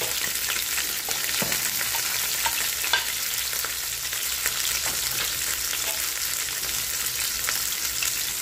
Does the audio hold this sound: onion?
yes